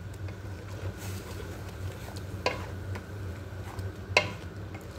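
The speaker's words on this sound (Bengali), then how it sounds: "এখন আমি টমেটোর পেস্ট অ্যাড করব। এখন এটা অনেকক্ষণ কষায় নেব আমি।" Tomato paste is stirred and fried in a pan. A soft, steady low sizzle runs throughout, with a couple of faint utensil clicks and no talking.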